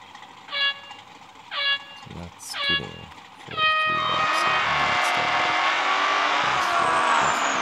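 Race car skidding in the Real Racing 3 mobile game: a few short screeching bursts give way to a continuous loud tire squeal with engine whine, sustained to the end.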